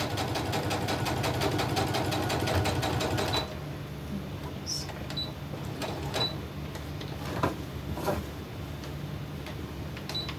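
A sewing machine stitches a seam on a crumb crazy quilt block, a rapid, even chatter for about three seconds that then stops, followed by quieter handling clicks and rustles nearby.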